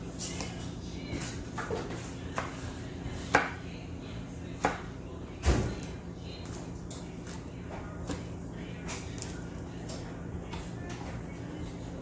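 A knife slicing and chopping food into small pieces on a board for a simple pantry survival meal, with a few soft, irregular taps and one or two sharper knocks, quiet and close.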